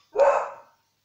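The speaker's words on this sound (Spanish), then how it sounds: "Está hoy con ladridos." A single dog bark at home, one short, fairly loud woof that fades quickly into silence with no other sound around it.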